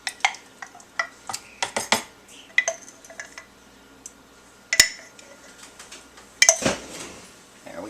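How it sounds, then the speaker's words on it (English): A fork stirs thick homemade yogurt in a bowl, sending out scattered metallic clinks and scrapes, some sharp and close, with softer, quieter stretches between them. "we'll once again use the fork to mix it up so that we can get it all creamy"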